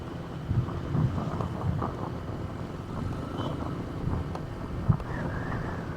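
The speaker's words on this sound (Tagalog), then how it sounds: "sarap ng hangin dito" Steady wind roars and buffets past an open car window on a city drive around Iloilo, a low continuous rumble with occasional gusts and a sharp bump.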